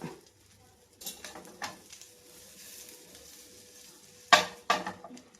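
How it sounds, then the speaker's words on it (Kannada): Egg fry coated in masala sizzles in a pan, with sharp scraping and flipping clatters of a spatula punctuating a low steady fry. "ಈ ಥರ ಉಲ್ಟ ಮಾಡಿ ಒಂದು ಸ್ವಲ್ಪ ಒಂದು ಸ್ವಲ್ಪ ಹೊತ್ತು ಫ್ರೈ ಮಾಡಬೇಕು"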